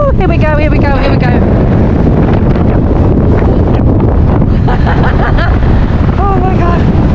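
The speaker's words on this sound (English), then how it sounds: "prepare for the wind" Strong wind roars across the Blackpool seafront, a loud, constant buffeting rush that fills all seven seconds, with people's voices breaking through it at moments.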